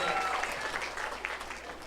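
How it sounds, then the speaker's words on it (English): Brief, moderate applause from a comedy club audience during a stand-up set, a short burst of scattered clapping lasting about two seconds. "I didn't expect applause for that."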